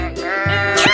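A sheep bleats in a 3D animal video game, one loud, close, wavering call lasting about a second.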